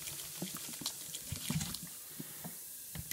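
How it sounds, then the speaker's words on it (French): A glass of vinegar is poured onto baking soda in a clogged sink drain, a faint close splashing pour with small liquid bursts and trickles against a quiet background. "Vous foutez votre verre de vinaigre sur le bicarbonate de soude."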